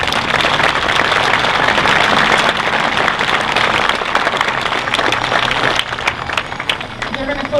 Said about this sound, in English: if we could give a round of applause to our United Veterans Council in the back.